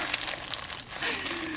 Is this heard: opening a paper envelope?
yes